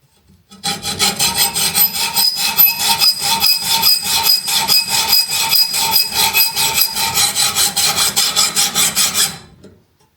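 A fine-tooth saw blade rasps steadily through a small-diameter filter cartridge part for an old vacuum cleaner, quick regular strokes close by, continuous for about nine seconds then stopping.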